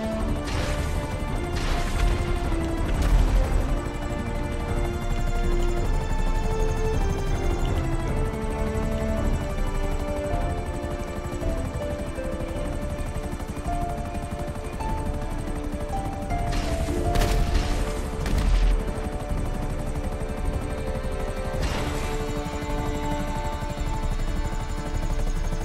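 Helicopter in the GTA Online video game, a continuous droning rotor and engine hum throughout, punctuated by several sharp crashing impacts and bursts of gunfire in the game mix.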